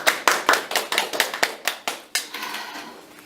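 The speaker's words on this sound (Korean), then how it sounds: "박수!" A university lecture audience claps in a quick burst of sharp, separate hand claps that thin out and fade after a few seconds, with no voices over them.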